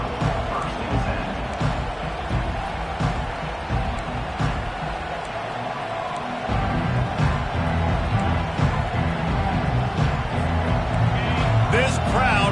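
Loud stadium crowd at a football game roaring and cheering for the visiting team, a steady dense wall of noise that swells louder partway through, with a commentator talking over it.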